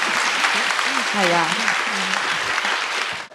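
Audience applause at a spoken talk, a steady dense patter that fills the whole stretch while someone briefly speaks over it.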